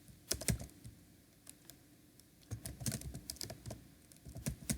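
Someone types a mkdir command on a computer keyboard: quiet, close clicks come in a short burst, stop for a brief pause, then return as a longer irregular run of keystrokes, with no speech.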